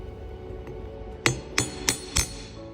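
Four sharp, ringing hammer blows strike a sterling silver chain link resting on an anvil, evenly spaced and close up over a low background hum.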